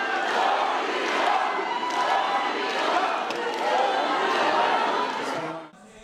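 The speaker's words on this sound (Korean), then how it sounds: "원희룡 후보 등장엔 박수와 야유가 뒤엉켰고" A political party joint campaign rally crowd in Busan greets candidate Won Hee-ryong with a steady, dense roar of mixed clapping, shouting and jeering that holds loud for about five seconds, then cuts off abruptly.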